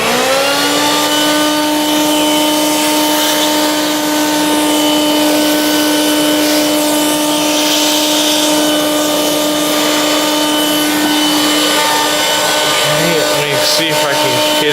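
A Hoover Quik Broom Encore S2551 two-speed stick vacuum runs steadily on its low setting, a loud continuous motor whine with a strong tonal hum that holds level throughout, with a brief rattle near the end.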